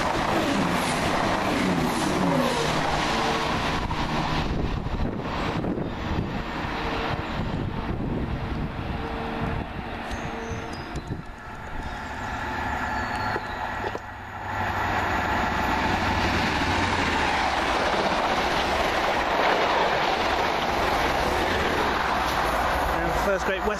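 A passenger train rumbles past close by at a station, a loud sustained roar with clattering wheels that swells and fades, and a voice talks over it.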